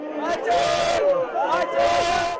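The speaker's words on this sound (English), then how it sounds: "The crowds of mourners were not as big as anticipated." A crowd of mourners at Hachalu Hundessa's funeral in Ambo, with many voices wailing and chanting together in two loud, swelling waves close by.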